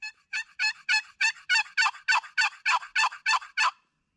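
A wild turkey gobbles in a fast, rattling series of about a dozen notes during a hunt, fairly close and clear against a quiet background.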